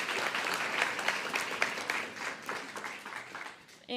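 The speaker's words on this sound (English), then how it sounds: "how about another round of applause for Alethea and Damien and Amani?" An audience at a guide dog graduation ceremony applauds, a dense, steady wash of clapping from many hands that fades toward the end before a sharp new sound cuts in.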